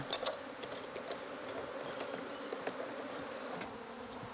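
Honeybees buzz inside a jar of powdered sugar during a varroa mite count, a faint, continuous droning hum with a few brief clicks and knocks.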